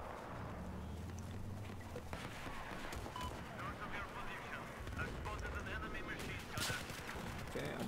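Gunfire in the video game Battlefield 4, with repeated sharp shots and bursts crackling amid battlefield noise, and a voice talking over it.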